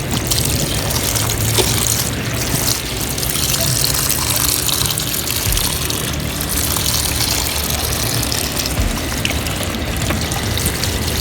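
Water pours steadily into a GIANTEX portable full-automatic washing machine, a continuous close rushing and splashing fill with no pauses.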